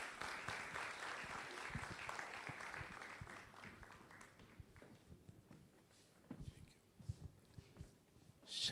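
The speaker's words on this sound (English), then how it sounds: "A round of applause for him, please." Audience applause at the official launch of an election command centre, fading from a dense patch into scattered, uneven claps with some shuffling and movement, rising again at the end.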